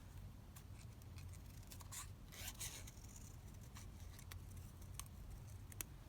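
Quiet, close snipping of scissors cutting a bow shape out of paper, a scattering of small crisp clicks over a soft, steady background hiss.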